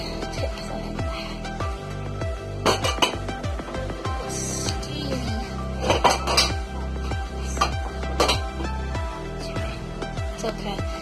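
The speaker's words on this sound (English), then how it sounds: "we need to strain the water out of the pasta" Pasta from a meatball dinner is tipped into a small metal strainer, giving steady rattling clinks and clanks of pot against metal, close up, with brief sharper knocks.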